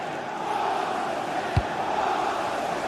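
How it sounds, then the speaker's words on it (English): A stadium crowd in a football video game gives off a steady, distant roar and murmur, with one brief low thump partway through. "The crowd certainly think so. Just listen to them."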